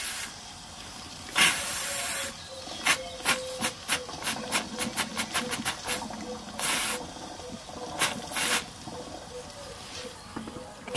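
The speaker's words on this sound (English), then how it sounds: "I'm just circulating a bit of steam through the engine." Steam hisses in sharp bursts through a Cotswold Heritage Perseus model steam engine, with a few long blasts and then a rapid run of short, evenly spaced puffs before two more bursts, all close and alone.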